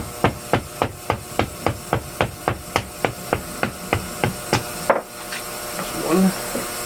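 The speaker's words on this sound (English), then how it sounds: "let's get this bolt's punched out" Metal hammer blows driving a bolt out of a Kawasaki KZ400 motorcycle frame during restoration: about fifteen sharp, evenly spaced strikes, close and loud, then stopping with some handling clatter.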